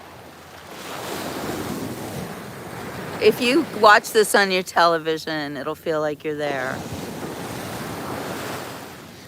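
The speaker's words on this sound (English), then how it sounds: "And the soft, gentle waves just lapping against the sun. I mean, against the shore, against the sand." Soft, gentle waves lap against a sandy beach shore in a steady, close wash mixed with wind noise, while someone talks over them midway.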